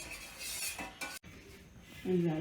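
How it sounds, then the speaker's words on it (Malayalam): A spoon stirs sugar into a mint lime drink, scraping and tapping against the cup, ending in a clear ringing clink. "പഞ്ചസാര ഇളക്കി"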